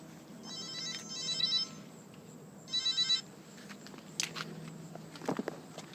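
A mobile phone ringtone sounds in two short repeated bursts at moderate level in a quiet indoor space, followed by a few footsteps and handling noises as someone moves toward it.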